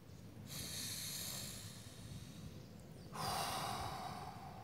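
Slow, deep Wim Hof power breathing, with a long noisy inhale followed by a softer exhale and then another strong breath starting, close to the listener and alone.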